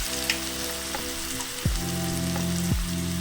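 Chopped onions dropped into hot oil for a liver curry, crackling and sizzling steadily at close range with a few louder pops and no talk.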